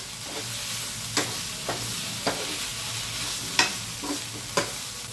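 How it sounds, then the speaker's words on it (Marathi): Eggplant fries in a pan with a low steady sizzle under repeated sharp scrapes and taps of a spatula turning the pieces, about six distinct strokes spaced unevenly, close and without talk. "पहा असं वांगा त्याच्यात फ्राय करून घेऊया छान असं."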